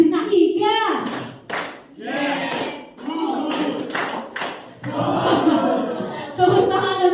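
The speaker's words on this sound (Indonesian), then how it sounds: "Tepuk tangan untuk semuanya." A class of children claps hands together in a patterned rhythm of quick bursts, close and loud, mixed with children's voices and a teacher talking.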